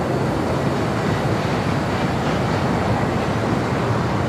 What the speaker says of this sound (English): The A380 Super will do a little back taxiing on 24 left